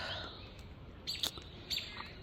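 Small birds chirping near fruit and berry plants, a few short, high tweets in two quick clusters, fairly close over a faint, steady background hiss.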